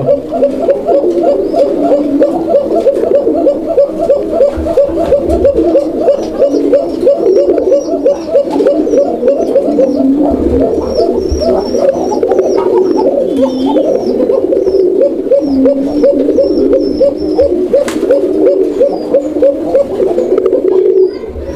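Male Raj-Golla pigeons coo steadily, with repeated throaty calls overlapping into a continuous murmur. The cooing is close and loud throughout, and a few higher bird chirps come through on top.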